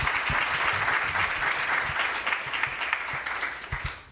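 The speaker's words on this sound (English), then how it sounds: "So how about a round of applause for these awesome guests?" Audience at a panel discussion with guests applauds warmly, steady close clapping throughout that tapers off toward the end.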